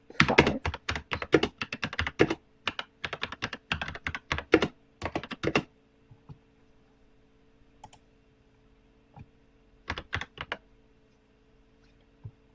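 A computer keyboard clatters under quick, close typing in dense bursts of clicks, then falls quiet under a low steady hum before a few final keystrokes.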